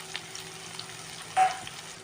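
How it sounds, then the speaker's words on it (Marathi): Garlic and ginger fry in a pan, a soft, steady sizzle with one brief louder spatter near the middle of the short stretch. "गार्लीक आनी जिंजर घालपाचें मातशें बरें भाजून घेतलें हांव"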